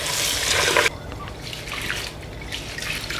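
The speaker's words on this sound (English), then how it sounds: "Rinse off the rice twice, because even though you're washing rice," Rice grains are rinsed in clean water, a loud rushing pour for under a second followed by softer trickling, sloshing and drips.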